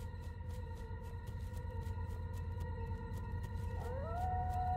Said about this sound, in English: Yep, I'm hearing wolves howling.